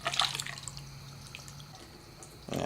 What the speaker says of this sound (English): I didn't tighten up my bolt down here enough, and it's dripping the water out already